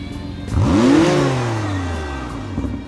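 A McLaren Artura's hybrid V6 engine revs up sharply, its pitch sweeping upward, then settles into a steady, gradually falling drone. The sound is loud and close.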